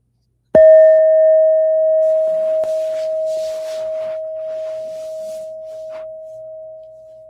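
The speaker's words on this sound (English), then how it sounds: "I'll go ahead and sound our gong." A meditation gong is struck once, sharply and close, then rings out in a long, pure, sustained tone that fades slowly over several seconds in a quiet room.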